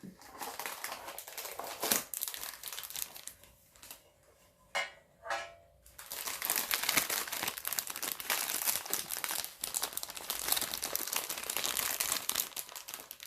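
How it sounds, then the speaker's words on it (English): Scottish shortbread packaging is crinkled and crushed up close in continuous, crisp bursts. A brief quieter pause with a few soft handling sounds comes before the loud crinkling resumes. "I'm not a huge fan of loud crinkles"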